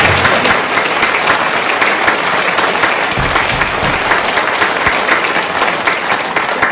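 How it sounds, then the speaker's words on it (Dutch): Full, sustained applause from a jubilee concert audience, many hands clapping steadily and loudly for several seconds without pause. "Applaus, ja."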